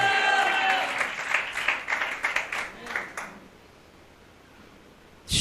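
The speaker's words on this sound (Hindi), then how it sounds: "यीशु के लिए जोरदार तालियां" Church congregation applauding for Jesus, a fading burst of clapping with cheering voices that dies away to near silence before a sudden loud noise at the end.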